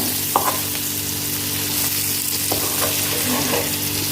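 Food frying steadily in a pan with coriander leaves, a continuous loud sizzle with occasional stirring clinks and scrapes, no voices.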